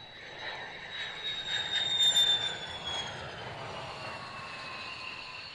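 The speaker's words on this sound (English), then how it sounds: "the Royal Netherlands Air Force F-16, call sign orange" A Royal Netherlands Air Force F-16 jet lands, its engine whine heard at a distance as a steady roar that swells and then slowly fades.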